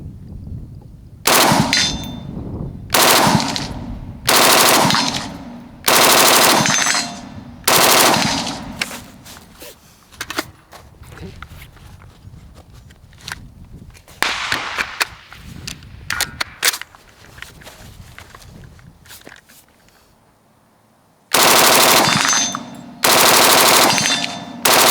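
A Steyr AUG A2 rifle with an FRT trigger pack and LMG barrel on a bipod fires loud, rapid bursts at close range, broken by quiet pauses, then resumes firing near the end.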